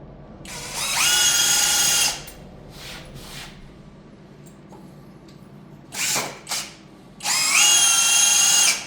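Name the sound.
power drill driving 4.70 screws into wooden bed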